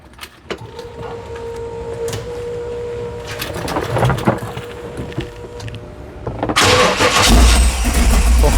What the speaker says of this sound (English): let's hear it run